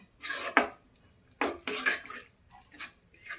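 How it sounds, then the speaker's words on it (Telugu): A spoon scrapes and clinks against a pan as fried ridge gourd is stirred into a curry, with a few short, sharp knocks and scraping bursts spread across the moment, fairly close and moderately loud. "బీరకాయ అవి కూడా వేసుకుంటున్నాం ఒకసారి బాగా కలుపుకోవాలండి"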